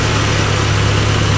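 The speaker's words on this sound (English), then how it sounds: "What a sweet old motor." An old Nissan truck engine with a carburetor idles steadily up close, a loud, even low rumble running unbroken throughout with no talk.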